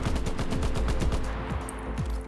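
A battlepass gun in Enlisted fires in a steady, moderate-rate stream of close, punchy shots that continue throughout with no pauses.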